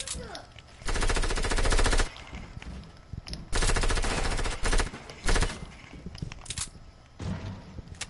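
Video game gunfire in Fortnite: loud rapid automatic bursts of several fire repeatedly, each lasting about a second, separated by short gaps with scattered single shots and faint background game noise.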